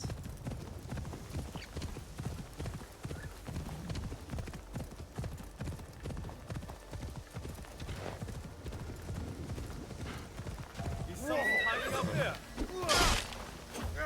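Hooves clip-clop steadily in a rhythmic patter, then a horse neighs loudly near the end amid some crashing noise, in the video game Assassin's Creed Shadows.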